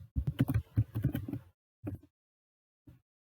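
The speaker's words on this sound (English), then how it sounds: "just type code blocks in the search box" A computer keyboard being typed on at close range: a quick run of soft key clicks for about a second and a half, then two short isolated taps after pauses, with no talking.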